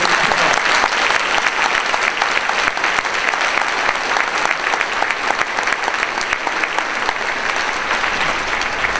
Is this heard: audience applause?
yes